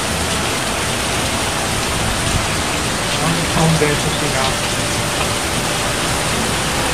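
Loud, steady roar of heavy storm rain pouring off a roof like a waterfall in Texas, a dense unbroken wash of water, with a man briefly muttering over it.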